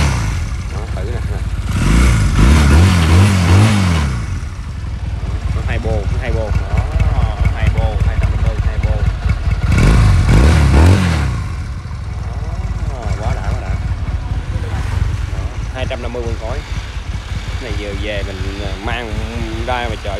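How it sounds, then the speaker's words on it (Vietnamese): A Honda motor scooter engine is started and revved in two strong bursts, with someone talking over the idling putter between revs, close and loud. "thử máy coi, ô nổ lên y như mô tô"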